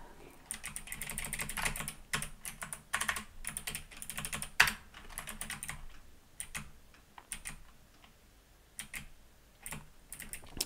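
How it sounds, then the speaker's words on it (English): Rapid clicking keystrokes on an ordinary, inexpensive computer keyboard bought with a coupon, typed in uneven bursts with short pauses. The clicks are close and fairly crisp, with one sharper tap partway through. "keyboard, I bought off coupon, and it's just a normal keyboard."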